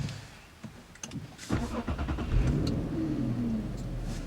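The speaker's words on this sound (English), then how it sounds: "this V6 engine still impresses me. I still like the way it sounds at initial startup" A 2013 Infiniti G37x's V6 engine cranks and fires up, then settles into a steady, throaty idle rumble close by.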